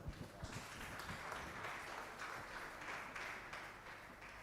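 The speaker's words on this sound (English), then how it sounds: "Shall we all be on our feet and welcome him with a round of applause?" A church congregation on its feet gives a sustained round of applause to welcome a guest at a love and relationship summit. The clapping is steady, fairly quiet and somewhat distant, and it blends into a continuous wash.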